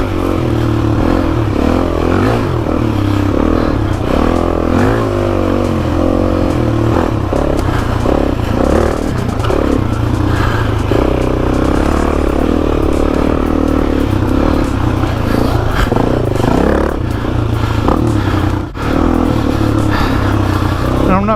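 A Suzuki DRZ400e dirt bike rides a track, its engine droning and revving steadily close up with clattering and scraping from the terrain, a continuous loud ride throughout.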